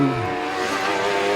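A race car at Midvale Speedway slides sideways coming out of turn two, its engine droning loud and steady throughout with faint tire scrub underneath.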